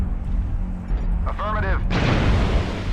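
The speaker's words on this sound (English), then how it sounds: "Artillery strike online." An artillery strike in MechWarrior Online lands with a heavy, broad blast, preceded by a low mechanical drone and a brief whistling tone, with a player speaking around it.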